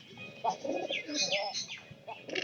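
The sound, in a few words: pigeon cooing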